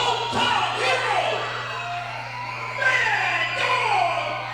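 Raucous wrestling crowd at a Dragon's Den Productions show in West Branch, Michigan, cheering and screaming steadily, with whoops swelling at moments and a constant low hum beneath.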